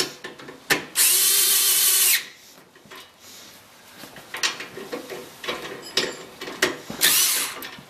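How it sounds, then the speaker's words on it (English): Power tool driving screws into a KewlMetal motorcycle part, front and rear: loud bursts of about a second each with a ratcheting, whirring buzz, separated by quieter clicks and handling noise, no talk. "then you want to tighten up your screws, front and rear,"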